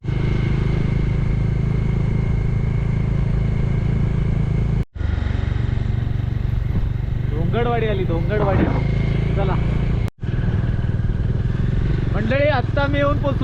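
Motorcycle engine droning steadily on a rainy-season ride through the Konkan countryside toward Bhatgaon, loud and continuous with two brief cutouts, while someone talks over it.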